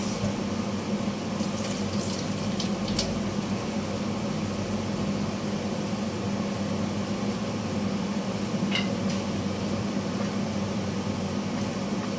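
Quail meat rinsed under a running kitchen tap, a steady continuous splash of water filling and pouring over the pieces in a sink, with faint clinks now and then.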